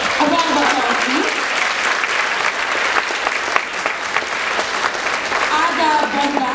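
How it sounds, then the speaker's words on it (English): An audience at a Filipino cultural gala applauds the technical team, steady many-handed clapping throughout with a few louder individual claps and faint voices mixed in. "A round of applause, please."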